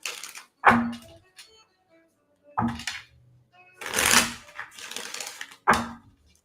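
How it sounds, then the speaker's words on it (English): Tarot cards being shuffled during a live reading: a handful of sharp riffling bursts and snaps spaced irregularly, close to the mic, with short quiet gaps between them and no speech. "now the cards don't want to shuffle"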